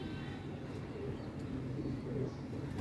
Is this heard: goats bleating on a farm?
no